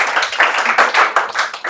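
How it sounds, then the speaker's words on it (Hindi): An audience at a Class 10 board results celebration breaks into applause, with a quick burst of individual claps from a few nearby hands, fairly loud and uneven. "ताली बजा दीजिए भाई इनके लिए।"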